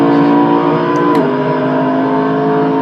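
A McLaren race car engine in the Assetto Corsa driving sim holds a steady, loud, close-up drone at high revs, with a brief shift in pitch midway and no talking over it.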